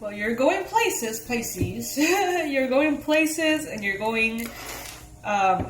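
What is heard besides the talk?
No distinct noise like a dog, phone or traffic.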